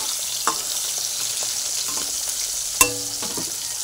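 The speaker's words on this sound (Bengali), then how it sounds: "এখন এক এক করে মাছ ছেড়ে দেব। এই যে মাছগুলো ছেড়ে দিয়েছি, এবার কড়া করে ভেজে নেব।" Small puti fish fry in hot oil in a wok with a constant bright sizzle, close by, with a couple of sharp metallic clanks from a spatula.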